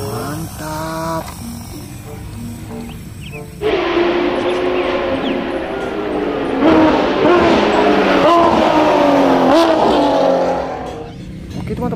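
A toy race car makes an engine sound, a revving motor tone with rising and falling whines, loud and close, starting quieter and then surging for several seconds.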